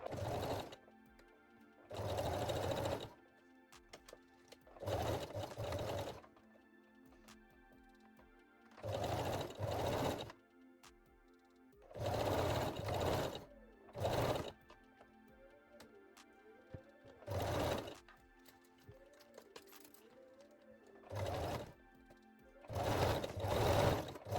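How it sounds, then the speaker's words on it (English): A sewing machine zigzag-stitches the lace bralette lining in about a dozen short, even bursts of rapid whirring, separated by quiet pauses, close and alone. "So start at the neckline with zigzag stitch."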